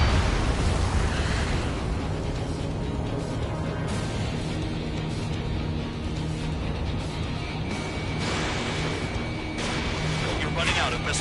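Ace Combat 7 combat sounds: a continuous roar of explosions and anti-aircraft gunfire with rumbling blasts and crackling bursts, heavy and dense throughout, with radio voices talking over the din.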